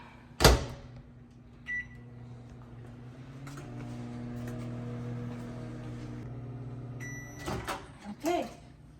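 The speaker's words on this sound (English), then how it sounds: "Microwave it for a minute." A microwave oven heats a bowl of about 150 ml fresh orange juice with 150 grams of sugar, a steady low hum running several seconds between a sharp door clunk at the start and beeps and a door opening near the end.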